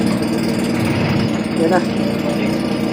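A small machine engine fired up on fresh gasoline runs with a steady, rough broadband drone, close and fairly loud, while people talk over it.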